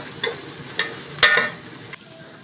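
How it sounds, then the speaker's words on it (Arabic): Onions and peppers fry in a little oil in a home kitchen, giving a low, steady sizzle with a few soft stirring clicks and one sharper scrape near the middle. "حاطه شويه زيت. بس بقى البصل هنزل عليها بالشوكه او الفلفل"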